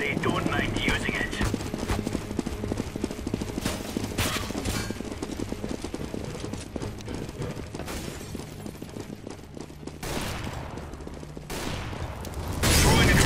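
CS:GO gunfire rattles in repeated bursts of shots with mechanical clatter and a few louder blasts near the end, mixed with ongoing game noise while a voice talks over it.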